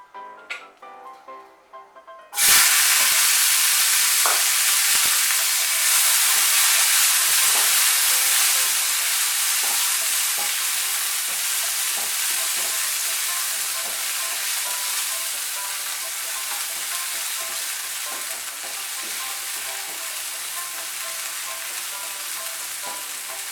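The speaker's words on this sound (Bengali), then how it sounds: "এর মধ্যে এখন আমি টমেটো কুচিগুলো দিয়ে দেব।" Chopped tomatoes go into hot oil in a pan for a Bengali eggplant dish: after a quiet moment a loud, sudden burst of sizzling erupts and settles into a steady, close frying hiss with occasional stirring clicks.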